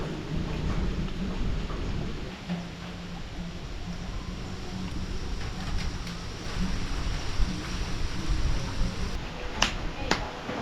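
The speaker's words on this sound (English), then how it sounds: "It already is raining." Heavy rain from an approaching storm during a stay with a remote tribe in the wild, a dense steady wash of rainfall with a low rumble beneath and a few sharp cracks near the end.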